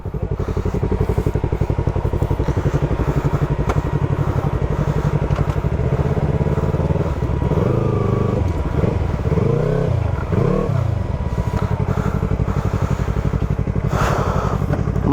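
A motorcycle engine runs loud and close throughout, rising and falling as it revs repeatedly in the middle before settling back to a steady idle.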